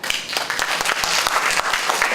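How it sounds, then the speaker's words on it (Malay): Loud, dense applause from a press audience made up largely of young online news reporters, steady throughout without any pause, with faint voices mixed in. "Kalau saya langsung tepukan gemuruh ke mereka."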